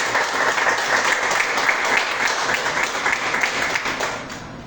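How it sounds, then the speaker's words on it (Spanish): An audience at a creative writing workshop reading breaks into steady, dense applause, loud and close, holding evenly before fading out at the end. "De nuevo un fuerte aplauso,"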